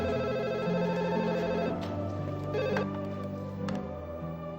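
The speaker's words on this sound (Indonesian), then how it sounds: "Tunggu ya, Mbak angkat telepon dulu ya." A telephone rings indoors in an Indonesian television drama, repeated trilling bell bursts over soft background music, fairly close and clear with no talking.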